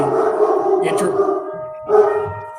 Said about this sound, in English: dogs. Lots of dogs. This is what you get when you're in Arizona, dogs.